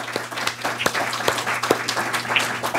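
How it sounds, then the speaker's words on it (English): Audience applause for panelists at a panel event on ocean carbon dioxide removal, a steady wash of clapping with a few sharper individual claps standing out, moderately loud. "they deserve a round of applause, because they did a really great job."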